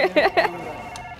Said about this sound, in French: Ça sonne. Le téléphone, euh, oui.